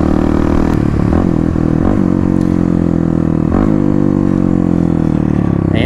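A 2018 Kawasaki KLX351 motorcycle with a full Barker exhaust downshifting, loud and raspy, its engine note dropping in steps with sharp blips between gears, close and alone without talk.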